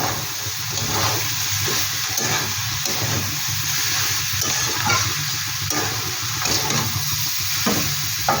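Radish ghonto being stirred in a pan makes a continuous wet sizzle with rhythmic scraping strokes repeating about every half second, close and fairly loud, with no talking.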